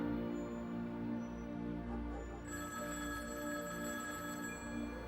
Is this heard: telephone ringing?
yes